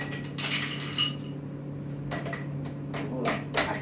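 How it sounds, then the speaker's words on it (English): Ice cubes drop into a wine glass in two clusters of sharp, bright clinks and rattles, close and crisp, over a low steady hum. "So I'm going to put some ice in the glass."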